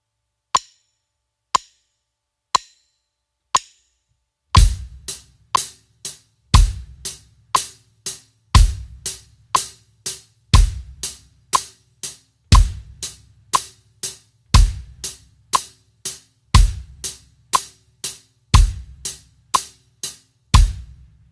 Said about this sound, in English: just hit the bass drum right in time with the hi-hat